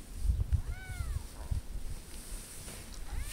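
Outdoors in the snow, a cat gives a couple of drawn-out meows at moderate distance over crunchy, rustling noise, with a softer meow near the end.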